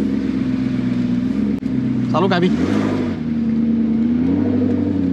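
A McLaren MP4-12C Spider with manual-mode gearbox pulls away in first gear around 1500 rpm, a loud, steady engine drone heard from inside the cabin with a brief rising rev; a voice speaks briefly over it.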